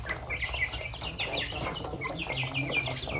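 A rooster clucks repeatedly in short, close, chattering bursts, with more clucks layered over a busy farmyard background.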